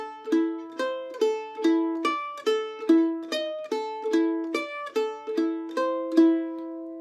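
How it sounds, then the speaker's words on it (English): A mandolin picks a bluesy string-crossing lick with alternating strokes, a quick run of bright plucked notes in a steady rhythm, close and clear with no talking. "This is a little bit more string crossing stuff for the mandolin, so it sounds really cool."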